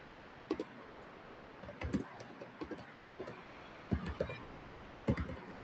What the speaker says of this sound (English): I'm just typing Sony.com